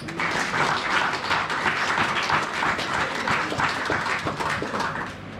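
Church congregation applauding during a French sermon, a dense steady wash of clapping throughout, loud and sustained with no speech over it.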